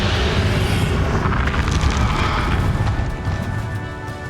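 A Confringo explosive spell goes off in Hogwarts Legacy, a loud booming blast with rumbling crash and debris that fades slightly toward the end.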